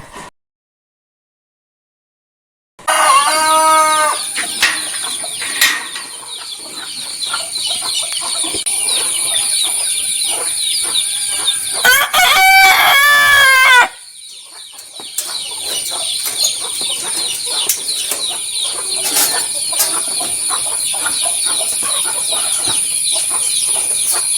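Karinkozhi black chickens at a backyard poultry run cluck and call loudly and close, with a burst of rooster crowing midway and repeated clucks continuing after.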